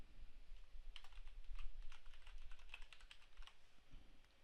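Fingers typing on a computer keyboard while entering requirements into training software, a steady, quiet patter of soft key clicks with a few sharper taps, close and alone against a faint background hum.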